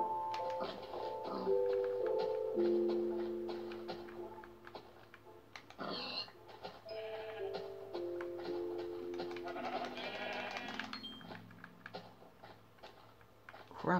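Minecraft sheep bleating on Xbox 360, several wavering bleats in a row over soft game background sounds, with a little clicking between calls.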